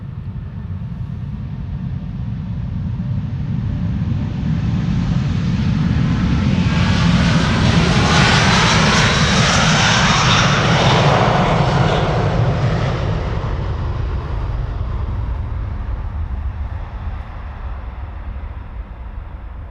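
A Delta Airbus A330neo jet takes off from Amsterdam Schiphol, its engine roar swelling loud over about twenty seconds as it passes, with a rising high whine at the peak before slowly fading, no voices.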